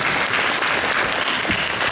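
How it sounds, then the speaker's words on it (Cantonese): A theatre audience applauds the musicians after a sold-out Cantonese opera performance, with a thick, continuous roar of clapping from a large crowd. "所以喺呢度係俾掌聲俾游龍師傅同埋阿錦哥同埋整隊嘅樂隊。"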